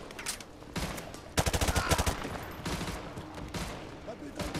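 Bursts of automatic gunfire in Call of Duty Modern Warfare 2 Remastered, with an M4 rifle among the weapons. Rapid rattling volleys come close and loud in several clusters, the densest near the middle, under a steady wash of battle noise.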